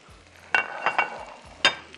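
Meat sizzling in a pan as it is stirred and fried with coriander, with soft frying hiss broken by a few sharp spoon scrapes and clinks against the pan.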